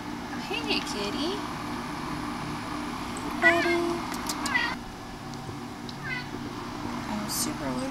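A cat meows a few times indoors in a box truck being converted to an RV, short near calls amid a low hum, with a person speaking softly to it.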